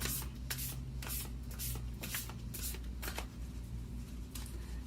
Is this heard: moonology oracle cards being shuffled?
yes